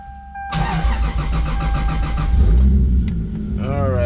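A Toyota Supra MKIV engine cranks and fires at once after a fuel pump prime, settling into a loud, steady, lumpy idle up close, with someone speaking over it near the end.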